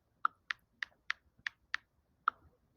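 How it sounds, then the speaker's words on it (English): Someone types an event name on a keyboard: seven crisp key clicks in a quick, slightly uneven rhythm, close and clear against near silence. "you could try typing in your event"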